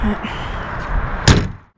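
A single heavy car door slam cuts sharply through a steady background rumble, then everything falls quiet.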